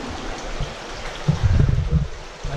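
A stream flowing through Robber's Cave near Dehradun, a close steady burble of running water that swells into a louder, splashing surge midway, then settles back.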